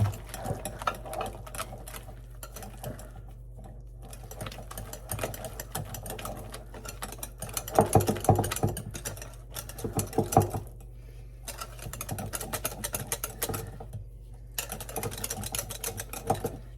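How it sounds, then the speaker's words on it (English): A whisk works jello into a white no-bake pie filling, giving a rapid, rhythmic clicking and tapping against the bowl. It comes in steady bursts separated by short pauses, close and fairly loud, with no talking. "Let's get that whisked in here."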